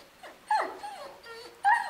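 A Pakistani bully dog puppy, about nine months old, lets out several high, wavering whimpers and whines in short bursts, close and fairly clear, with the loudest cries at the start and near the end.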